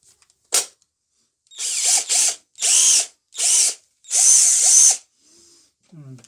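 A JCB Pro Plus cordless impact drill whirs in five short bursts of rising and falling speed, each run lasting under a second, loud and close with brief pauses between them and no talking over it.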